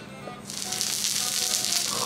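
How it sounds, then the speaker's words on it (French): A nodoguro fish being seared by pressing hot charcoal against it begins quiet, then breaks into a bright, steady hissing sizzle that holds to the end without any speech. "la méthode de cuisson au charbon, il vient de le coller contre le poisson"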